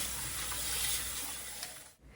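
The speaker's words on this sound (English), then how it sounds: "Wash the rice noodle with the cold water to be sure the rice is not cooking" Cold tap water runs steadily over rice noodles being rinsed in a sink, a continuous close splashing hiss that cuts off abruptly near the end.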